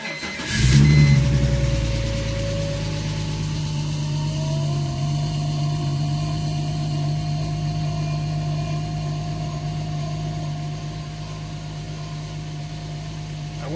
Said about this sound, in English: we should be ready to start the engine for the first time